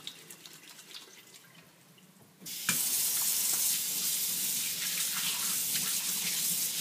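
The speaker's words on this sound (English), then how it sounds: "I'm going to give my hands a quick wash." Water runs steadily from a kitchen faucet over hands being washed, a sudden loud, broadband rush that starts partway through after quieter room noise and continues without a break.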